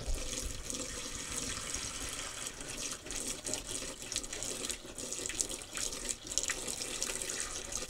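Condensate water trickles and drips into the basin of a Vevor condensate removal pump serving an air conditioner, a soft continuous splashing with scattered small drips, close and quiet.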